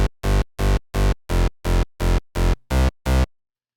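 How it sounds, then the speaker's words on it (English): UK hardcore rave bass synth patch built in Harmor, firing ten evenly spaced, punchy staccato hits with bright buzzy harmonics, loud and dry, alone with silence at the end. "Now, the whole bass altogether at this point is going to sound like this."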